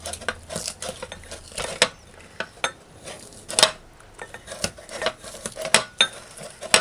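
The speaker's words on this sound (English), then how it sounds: "Mash the garlic." Garlic being mashed for a Rastafarian-style vegetarian curry, heard as a run of irregular knocks and scrapes of metal utensils against pots and dishes, close and fairly quiet, with no talking.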